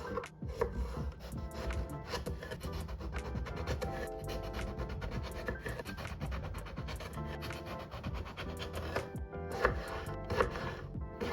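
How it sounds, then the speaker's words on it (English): A knife chops zucchini, eggplant, broccoli and cherry tomatoes into small pieces on a board, giving a quick, steady run of close, crisp cuts that lasts throughout with no voices. "now I cut them into pretty small pieces so that they cook quicker"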